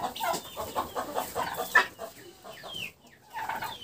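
Turkeys in a poultry yard, some of them moulting, cluck and chirp in short, scattered calls at close range, with other farmyard birds in the background and no talking.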